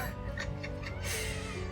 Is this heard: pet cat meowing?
yes